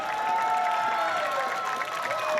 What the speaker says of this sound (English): How about a round of applause for Slugger?